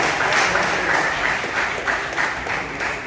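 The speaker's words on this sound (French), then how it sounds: "Demandez-nous applaudir encore s'il vous plaît." Audience applauding at a graduation ceremony for students of a vocational school, a steady, dense wash of clapping that holds at an even level throughout without a break.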